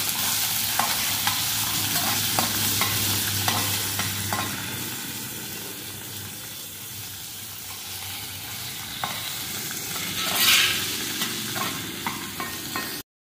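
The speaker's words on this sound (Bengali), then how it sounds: "টুকরো করা গাজর দিয়ে দেবো। সব একসাথে ভাজা করে নেব।" Chopped carrots and capsicum are stir-fried together in a pan for a vegetable sago dish. A soft, constant sizzle sits under repeated scraping stirs, with a louder clatter near the end and no talking.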